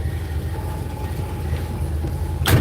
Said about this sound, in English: It's idling kind of high there.